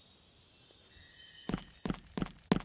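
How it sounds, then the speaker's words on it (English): Identical footstep samples repeat four times at a steady running pace over a faint electronic hum, the game character's steps sounding close and evenly spaced. "When we play, when we run, we should hear some footstep sounds."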